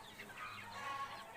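Native country chickens being fed vegetables and green fodder cluck softly in a brief, quiet burst against low background noise.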